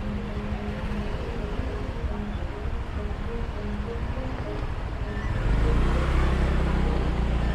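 Road traffic on Jalan Pantai Kuta in Bali, a continuous rumble of engines and wind noise around a moving vehicle, growing louder and deeper near the end.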